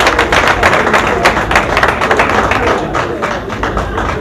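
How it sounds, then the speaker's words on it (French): A crowd at an awards ceremony applauds the writer André Ekama, giving dense, loud, sustained clapping that fills the room and tapers slightly toward the end. "Je vais vous demander de l'applaudir très fort."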